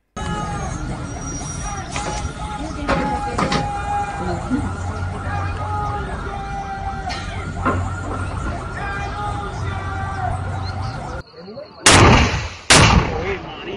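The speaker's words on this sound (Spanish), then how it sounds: "Nos están disparando con RPG, granadas, lanzagranadas, francotiradores." Gunfire in an armed assault involving RPGs, grenades and snipers: scattered shots and blasts under tense voices and crowd noise, then two loud, sharp close reports near the end.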